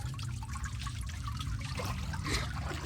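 Water trickles and dribbles out of the airbox of a Polaris Pioneer 500 side-by-side after it sat roof-deep underwater, making a soft, continuous, close-up splashing flow with low rumbling underneath.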